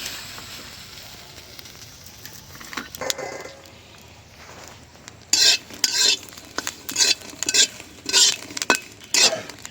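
Green chillies and garlic sizzle as they fry in a pan, followed by a run of sharp, rhythmic scraping strokes from a spoon stirring against the metal, close up.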